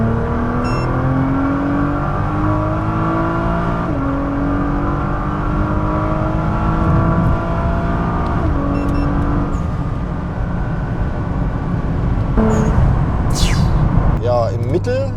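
Nissan GT-R R35 with downpipes, intakes and a blow-off valve pulling hard from 100 to 200 km/h, engine note rising through repeated gear changes, heard from inside with a sharp turbo whoosh near the end.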